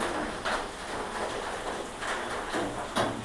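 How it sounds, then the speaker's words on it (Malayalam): Rain pours steadily outside as a soft, continuous hiss with a few louder patters, with no voices. "ഇപ്പോഴും മഴ പെയ്തും കൊണ്ടേ ഇരിക്കുകയാണ്"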